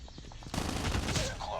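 An MSMC submachine gun firing a rapid, sustained burst in Call of Duty, preceded by a few brief clicks and quick sounds, loud and close.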